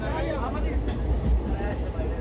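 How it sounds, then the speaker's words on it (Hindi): Passenger train 14526 rolls into Bathinda Junction, a continuous loud rumble and rattle of the carriages heard from inside the coach as it slows toward the platform. "लो जी दोस्तों ट्रेन अपनी पहुंचने वाली है बठिंडा जंक्शन रेलवे स्टेशन"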